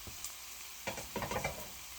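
Ham frying in a pan, with a soft steady sizzle and a few brief clustered scrapes and clatters from a utensil, close and fairly quiet.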